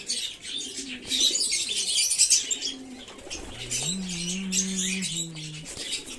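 Caged pigeons coo in low, throaty rolls, close by, while scratchy chirps and rustling fill the background.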